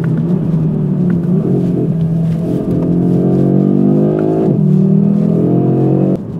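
An Audi RS3 8Y travels a rough, bumpy road, its engine humming and rising in steady pulls with a loud, continuous rumble of tires and suspension.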